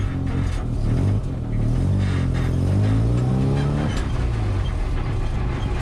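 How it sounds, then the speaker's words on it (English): A Triumph GT6 drives and accelerates hard, its engine revving loudly up and down through the gears up close, with a strong, steady roar throughout. "let's take a little drive down to Mexico and see what she can do"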